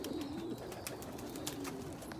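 An agate pigeon coos close by in a soft, repeated low rolling call, with a few faint background chirps and no talking.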